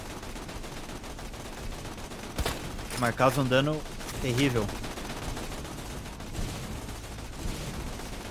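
Gunfire from a malfunctioning weapon in the video game Borderlands gives a few sharp, quiet shots and short bursts beneath someone speaking Portuguese.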